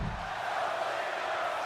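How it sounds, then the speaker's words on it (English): Arena crowd in the WWE 2K23 wrestling video game, a steady roar of cheering spectators behind a Dolph Ziggler match, continuous and fairly loud with no talk. "the crowd here firmly behind Dolph Ziggler"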